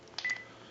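Dialing tones from a Panasonic KX-TG2357 cordless telephone: a quick pair of short electronic keypad beeps, close and clear against a quiet background, with no talking.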